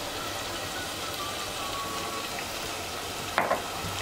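Sliced onions fry with salt in an oil-filled pan for zunka, a soft steady sizzle throughout with a couple of brief clinks of a utensil near the end.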